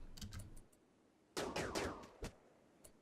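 RimWorld gunfire crackles in short bursts, a few faint early shots followed by a sharper cluster of rapid reports and a couple of scattered single shots, fairly quiet overall.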